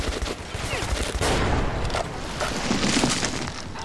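Loud rumbling blasts and gunfire from Metro 2033 Redux, with grenade explosions booming several times over continuous combat noise, close and dense.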